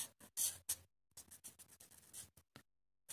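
Marker or chalk strokes on a board, a series of short scratchy bursts with brief pauses between them, close and faint with no talking.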